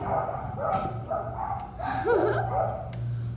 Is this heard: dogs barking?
yes